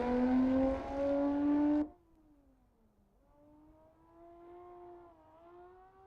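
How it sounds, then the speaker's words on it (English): Toyota V6 engine in the Assetto Corsa racing game roars at high revs, then cuts off sharply and drops to a steady, lower drone that dips and rises gently, with no voices. "Matt, this is the Toyota V6, this one"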